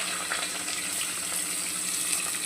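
Chopped onion and curry leaves sizzle in about two spoons of hot oil for a vegetable pulao masala, a steady, hissing fry that stays even throughout with no talking.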